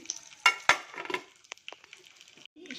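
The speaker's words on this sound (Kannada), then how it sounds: "ಇವಾಗ ಸಾಸಿವೆ ಕಡಲೆಬೇಳೆ ಉದ್ದಿನಬೇಳೆ ಜೀರಿಗೆ ಮೆಂತ್ಯ ಕರಿಬೇವು ಹಾಕ್ತಾಯಿದ್ದೀನಿ ಇದೆಲ್ಲ ಸ್ವಲ್ಪ ಚಟಪಟ ಅಂತ ಸಿಡಿಲಿ" Mustard seeds, chana dal, urad dal, cumin, fenugreek and curry leaves tossed into hot oil, quiet crackles and pops with a few sharp stirring clinks against the pan, fairly faint and close.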